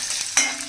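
Chopped ginger fries in hot oil in a pan, giving a steady sizzle with a stirring scrape partway through. The sound is close and alone.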